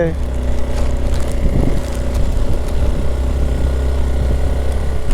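Strong wind pushes and buffets the microphone on a motorcycle ride through rainy Chikmagalur, a loud, steady low roar with an engine hum running beneath it for the whole stretch.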